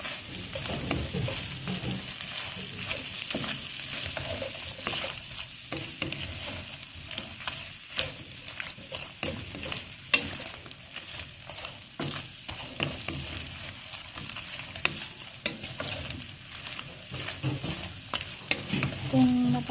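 Shrimp sizzles and fries in a pan with butter, garlic and Sprite while being stirred, a steady hiss broken by scraping clicks of the utensil, close and continuous throughout.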